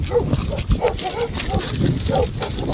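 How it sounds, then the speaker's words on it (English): Several dogs barking among trailers along a roadside walk, with repeated barks at a middle distance under a person talking close by. "there's a bunch of dogs back in all those trailers back there"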